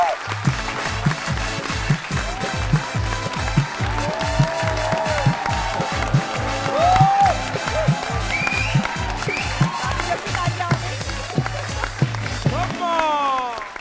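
Audience applause and cheering welcome actress Sunita Marshall onto a stage, dense and sustained over a steady, pounding rhythmic music beat, loud throughout and dropping away near the end.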